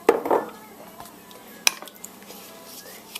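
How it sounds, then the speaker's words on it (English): A metal stirrer knocks and clinks against a pot while pectin is mixed into strawberries for jam, a few sharp metallic taps near the start, then quieter scraping and one bright clink. "the first thing we're going to do is mix our fruit pectin"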